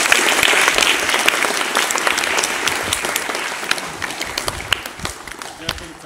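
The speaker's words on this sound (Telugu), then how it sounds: "విద్యార్థులు చప్పట్లు బాగా కొడుతున్నారు" Students at a tribal residential ashram school in Vijayapuri South, Nagarjuna Sagar, clap loudly together in a sustained burst of applause that thins slightly toward the end, with voices mixed in.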